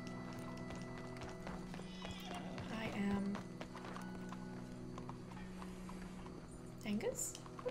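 Horse hooves clip-clop in Red Dead Redemption 2 under game music, faint and steady beneath a player talking, with a brief whinny-like sound near the end.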